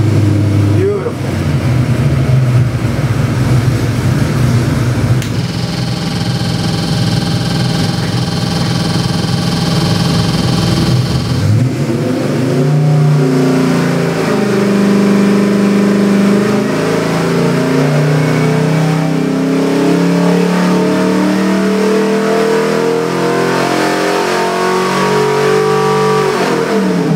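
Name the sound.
427 small block Chevy stroker crate engine at high idle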